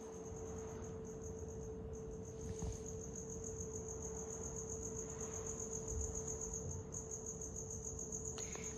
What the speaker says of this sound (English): but it sounds like those crickets.